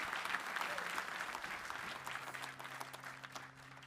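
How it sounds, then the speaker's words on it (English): Audience applause at a drone company's 2025 keynote event, a steady wash of many clapping hands in a large hall that gradually tapers off, with a voice briefly speaking over it. "Round of applause for the robots and the people."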